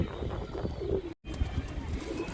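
A white-eyed pigeon held close, giving soft low cooing murmurs amid handling noise, with a brief dropout in the middle.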